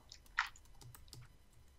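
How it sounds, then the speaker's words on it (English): Soft, scattered clicks of typing on a keyboard, faint and irregular, with one slightly sharper tap near the start. "Got some typing."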